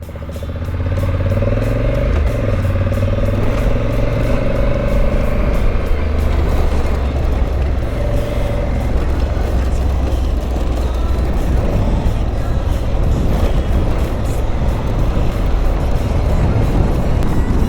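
A loaded motorcycle riding off-road through the desert sets up a loud, continuous engine drone with rumbling wind and terrain noise the whole way, shifting in pitch as it goes.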